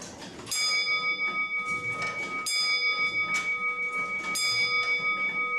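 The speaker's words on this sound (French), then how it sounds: "qui sonne l'heure sur une cloche" A Comtoise clock strikes the hour on a bell three times at an even pace, each strike leaving a clear, ringing tone that lingers between hits.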